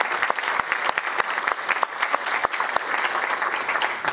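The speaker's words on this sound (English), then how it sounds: "So a big round of applause just for all of y'all for being here." An audience at a community summit on aging gives a round of applause, a close, lively burst of individual claps rattling continuously for a few seconds with no talking.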